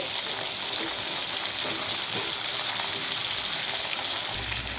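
Chopped ridge gourd and potatoes sizzle together in hot oil, a dense steady hiss and crackle, close and continuous with no talking.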